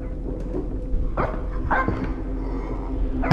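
A dog barks a few times in the horror video game Supernatural, sharp yelps standing out over a steady low game hum, fairly close and loud.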